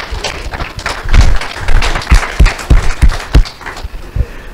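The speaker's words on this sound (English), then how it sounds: "And they deserve a big round of applause." An audience at an academic session claps together in a short, uneven burst of applause, with dull thumps among the clapping, loud and close.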